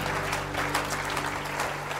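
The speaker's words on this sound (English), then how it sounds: "Why don't you give the Lord a hand clap of praise?" A church congregation claps hands in praise during a sermon, with dense, continuous applause from many people throughout.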